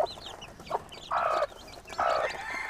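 Chicken chicks cluck and chirp nearby in short, repeated bursts while fed millet, with a few louder calls breaking through.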